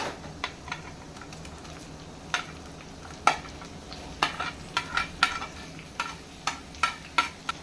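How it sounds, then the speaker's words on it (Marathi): Onion stirring and frying in a pan after ginger-garlic paste, for a Maharashtrian val and bharangi vegetable dish; soft steady sizzle with repeated sharp scraping taps of a spoon, fairly close and alone. "कांदा सुद्धा परतून घेऊया"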